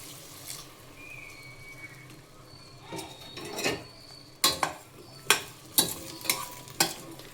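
Water is stirred into dondakai pachadi in a pressure cooker, first a quiet gentle sizzle, then a series of distinct spoon scrapes and knocks against the pot, fairly close.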